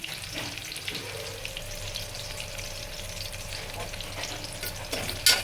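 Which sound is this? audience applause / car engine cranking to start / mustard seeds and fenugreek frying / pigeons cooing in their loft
mustard seeds and fenugreek frying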